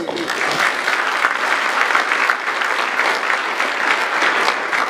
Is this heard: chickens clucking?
no